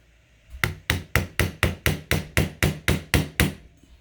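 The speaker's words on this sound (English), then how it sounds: "So I'm going to give it a little tap back." Eleven sharp, evenly spaced taps on a gun sight being driven sideways in its dovetail on an LC9s pistol, close and crisp with a brief ring after each strike, no talk.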